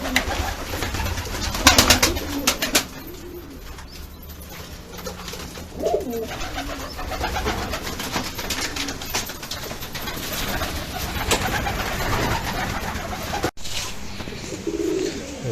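Portakal Shortface pigeons coo softly and intermittently in a breeding loft full of young birds, a continuous low murmur of calls under a busy room ambience.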